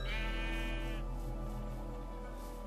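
A Minecraft sheep gives one short, bright bleat near the start, then a steady droning background continues alone for the rest.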